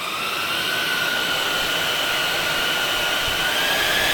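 Small electric motors spin a fan with aluminum blades at about 52,000 RPM as part of an exhaust cooling setup, giving a loud, steady, high-pitched whine and rush of air that holds constant throughout.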